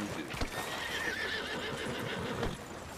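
Horse in the video game Red Dead Redemption 2 lets out a loud, wavering whinny over hoof clip-clops, with game ambience behind it.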